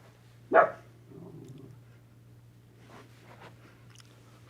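A dog outside a recording studio lets out one sharp, loud bark, followed by quieter muffled noises over a steady low hum.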